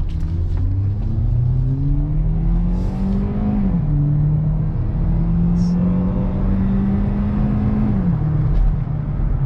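A 2018-2019 Hyundai Elantra accelerates hard, its engine droning loudly from inside the cabin and rising in pitch, dropping briefly on two gear changes before climbing again over steady road roar.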